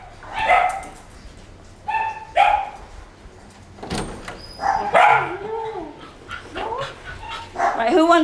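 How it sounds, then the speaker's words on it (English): A long-haired rescued puppy from Kingston, once found tied to a gate, barks and yips in several loud, close bursts with short pauses between them, and softer whimpering sounds come in between the barks. "So remember the puppy with all the hair that we rescued from Kingston?"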